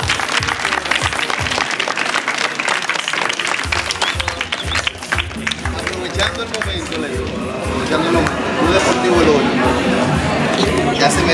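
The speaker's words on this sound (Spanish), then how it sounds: "Un aplauso" A crowd applauds at an award ceremony held by Club Deportivo y Cultural El Hoyo for Lewis El Artista. The clapping grows fuller partway through, mixed with chatter, and people talk over it.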